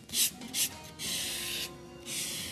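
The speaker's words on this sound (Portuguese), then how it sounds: "Olha como eu estou lixando." Wooden jewelry box sanded by hand with sandpaper: two short quick strokes, then longer steady rubbing passes, close up and fairly quiet, no voices.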